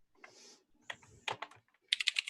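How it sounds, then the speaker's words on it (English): Computer keyboard typing in short, quiet bursts of clicks separated by pauses, ending in a quick run of sharper keystrokes, close and alone. "I heard the typing."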